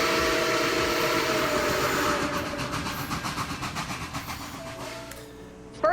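A toy train sound effect from a LEGO set plays alone, with a steady rumbling roll that gives way to a fast clickety-clack of wheels over rail joints before fading, and a faint click at the very end.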